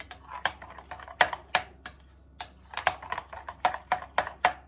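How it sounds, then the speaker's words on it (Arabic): A spoon stirs a spice mix of cumin and chili in a bowl while grilled liver is prepared, giving a run of quick, irregular clinks and taps at close range with no voices. "هنقلب المكونات دي مع بعض كويس اهو"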